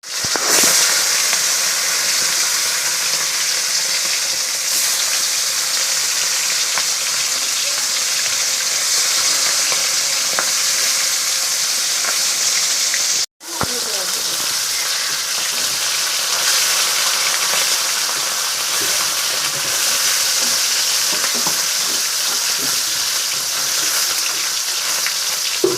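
Fish coated in turmeric and salt fries in a pan of hot oil, a loud, steady, close sizzle that runs almost unbroken, with one brief drop near the middle.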